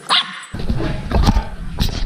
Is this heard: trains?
no